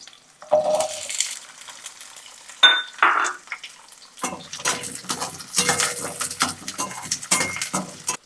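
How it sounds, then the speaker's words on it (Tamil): Garlic is tipped into hot oil in a pan for garlic chutney: a few metallic clanks come first, then a fuller sizzle and frying crackle builds and continues to the end. "பூண்டு நம்ம எடுத்து வச்சிருக்க பூண்டு போடணும்"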